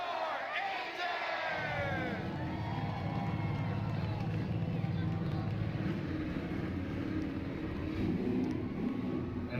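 A crowd cheers at Talladega as the race cars of a heat race roll off, a steady low engine rumble building under the roar and a commentator's voice.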